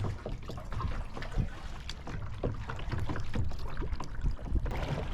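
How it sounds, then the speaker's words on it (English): A kayak is paddled south from John D. MacArthur State Park along the subtropical coast of southeast Florida. Soft, rhythmic paddle splashes and trickles are heard close by, with steady wind noise buffeting the microphone. "We're paddling south to Moonian Island"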